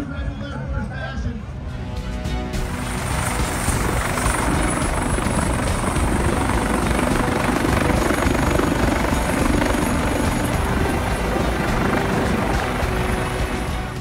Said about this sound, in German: Es war ein schwieriger Flug für den Piloten dieses Hubschraubers der Küstenwache.